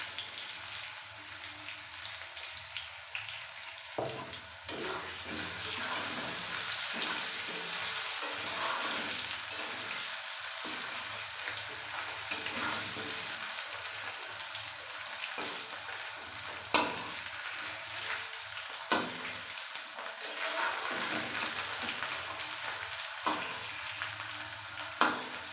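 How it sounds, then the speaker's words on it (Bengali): Potatoes and onions fry in a pan and are stirred now and then, with a steady sizzle carrying the whole time and scraping clatters from the stirring breaking through it at close range. "পেঁয়াজও ভাজা হয়ে গেছে, আলুগুলো হালকা লাল ভাজা হয়ে গেছে।"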